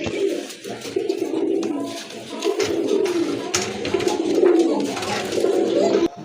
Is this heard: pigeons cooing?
yes